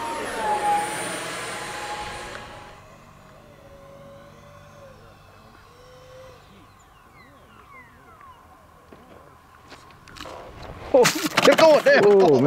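A 50mm EDF radio-controlled model jet whines as it flies, loud at first, then fading to a faint distant hum as it passes, with a loud close burst of noise near the end and voices talking.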